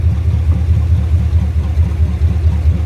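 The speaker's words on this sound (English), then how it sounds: "But this engine runs nice. It's nice and strong engine" A 1988 Chevy truck engine runs strong and steady, a loud, close, low rumble with an even pulsing rhythm and no talk over it.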